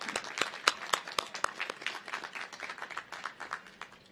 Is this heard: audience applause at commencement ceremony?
yes